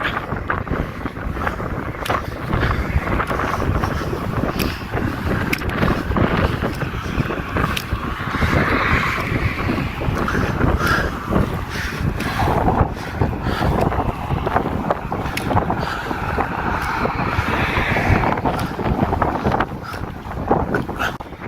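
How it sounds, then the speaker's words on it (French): Steady wind buffets the microphone on a coastal hike on Île de Ré, looking across the water toward La Rochelle, producing a loud, continuous rumbling roar that swells in gusts throughout with no voices. "Pour vous dire qu'il y a quand même du vent."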